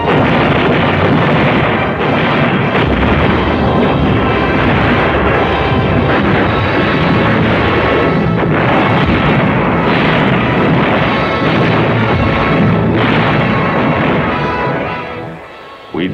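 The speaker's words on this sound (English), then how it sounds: "We'd blast away at those mountains" An artillery barrage pounds the mountains of Italy near Salerno in World War II, a loud, unbroken roar of blasts and rumbling detonations that runs on for many seconds before tailing off.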